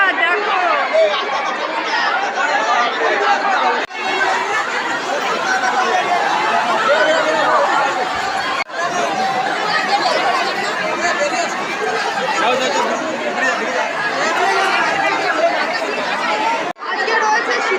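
Dense crowd chatter at the Sitala Ma bathing festival on a Howrah Salkia riverside ghat, many voices blending into a continuous loud babble with scattered chuckles, unbroken apart from a few brief dips.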